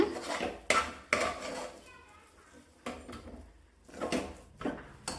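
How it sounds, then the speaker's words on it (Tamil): A thick snack mixture is stirred in a pan on the stove. Sharp scraping clatters of the utensil against the pan come in uneven bursts close by. "அடுப்பில் வச்சு நல்லா கிளறி விட்டுக்கோங்க"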